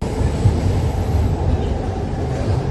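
A metro train runs steadily on its way to Dasarahalli station, a continuous low rumble and rolling rail drone with no break and no voices.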